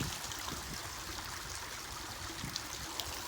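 Steady, soft water stream from an expandable garden hose with an adjustable flow, used to hand-water a small mountain farm; a continuous, faint trickling hiss with no voices.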